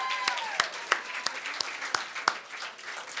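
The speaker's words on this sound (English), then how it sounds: "please give them a round of applause and thank you." Light, sparse applause from a small group at a hotel staff event, with a few sharp distinct claps standing out against a soft background murmur.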